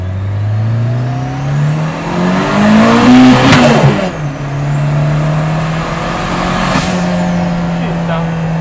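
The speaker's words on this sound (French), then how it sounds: "c'est un gros turbo, plus tu montes dans les tours, plus il va envoyer" Citroën Saxo VTS with a big turbo revs up twice, engine pitch climbing and falling back, loud and close, with some voices around it.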